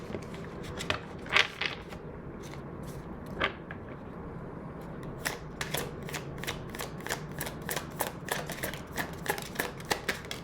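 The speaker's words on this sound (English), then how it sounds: "And when I cut the deck" A tarot card deck is shuffled and cut, giving crisp riffling flutters and sharp snapping taps repeated in quick bursts, close up and without talk.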